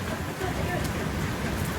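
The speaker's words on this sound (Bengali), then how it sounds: "এখানে কিন্তু বৃষ্টি হচ্ছে, অনেক বেশি বৃষ্টি।" Dense, steady hiss of heavy rain pouring continuously, loud and close, with no pauses.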